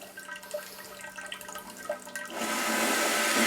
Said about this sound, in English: if I hit posterior wash, that guy comes down, and then it's going to start spraying